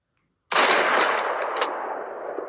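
A sustained burst of automatic rifle fire from an M416 in a shooter video game starts suddenly after a short silence and continues loud and dense to the end, with no talk over it.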